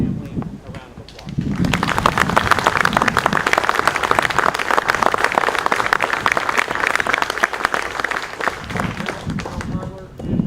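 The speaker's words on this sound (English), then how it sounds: "Let's give this family a round of applause." A room gives a family a round of applause at a military retirement ceremony, dense steady clapping swelling in after a moment of talk and holding for several seconds before fading.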